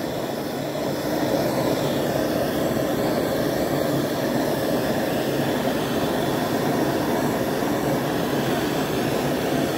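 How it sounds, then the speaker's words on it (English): A small Burns-O-Matic propane torch heats the fire brick of an electric aluminum-melting foundry, giving a steady, close, loud hissing roar that holds unbroken for the whole stretch. "So this is all you do, heat it up. Just a little Burns-O-Matic torch."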